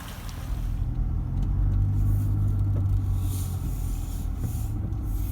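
A Toyota Prado 4WD crawls over a rough bush track with holes and river crossings, giving a steady low engine rumble and drivetrain drone heard from inside the vehicle, with occasional light knocks and scrapes.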